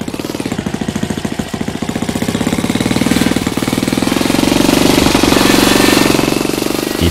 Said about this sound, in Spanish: Después, el rugido del motor fuera a borda.